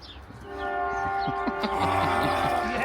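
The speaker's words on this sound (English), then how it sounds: "Oh, choo-choo train." A train passes near a farm, its tonal horn-like whine sustained over rhythmic clattering wheel clicks that build louder and stay steady for several seconds.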